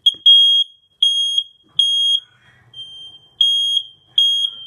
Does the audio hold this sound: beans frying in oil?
no